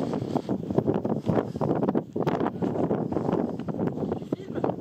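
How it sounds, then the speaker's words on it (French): Strong gusting wind batters the microphone on a mountain trail, a rough, roaring rumble that surges and dips continuously, close and loud, with people talking faintly beneath it. "il y a trop de vent"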